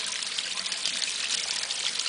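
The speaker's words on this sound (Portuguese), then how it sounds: "onde tem uma cachoeirinha dentro da casa" Small indoor waterfall fed by spring water trickling inside a colorful stone-walled house, a steady bright splashing wash of water with no pauses and no voices.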